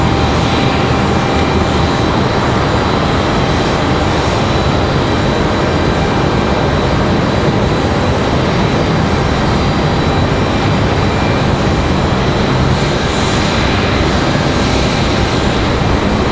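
Steady, loud roar of Boeing 737-700 airliner jet engines at Raleigh-Durham International Airport, a broad continuous rumble and whine close by with no voices.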